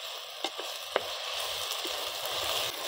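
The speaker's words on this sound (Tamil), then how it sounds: "இஞ்சி பூண்டு பேஸ்ட்டு நல்லா பச்சை வாசம் போகிற அளவுக்கு நல்லா வதக்குவோம்." Ginger garlic paste sautéing in a pan for egg curry gives a steady close sizzle with a few sharp ticks and stirring scrapes, no voices.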